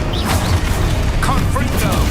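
A loud, dense burst of magical spell effects from the Hogwarts Legacy video game, with whooshing, crashing impacts and rumbling booms mixed together, plus a voice shouting over the din.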